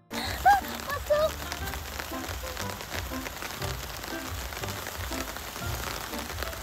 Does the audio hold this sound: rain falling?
yes